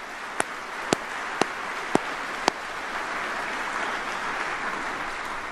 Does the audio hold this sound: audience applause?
yes